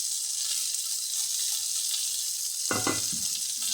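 Horse gram roasting in a pan, a steady dry hiss of grains on hot metal running close and continuous, with a brief louder scrape or stir near the end.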